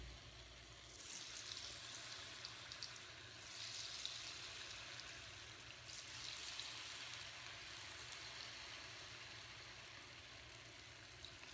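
Cauliflower pieces for gobi 65 deep frying in about half a cup of hot oil in a deep pan, a steady, dense close-up sizzle and crackle running unbroken throughout, with no talking.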